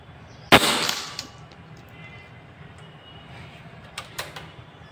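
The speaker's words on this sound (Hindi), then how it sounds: "थोड़ा सा जल्दी जल्दी शूटिंग हो ही रही है" An Evanix Vortex air rifle fires a single slug in a sharp, loud crack that fades quickly, followed a few seconds later by two faint clicks over a quiet background.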